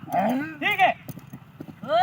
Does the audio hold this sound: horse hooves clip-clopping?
yes